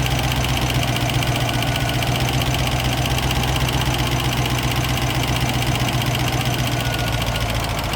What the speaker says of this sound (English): I need to increase the throttle speed on this one. The idle speed's boosted up now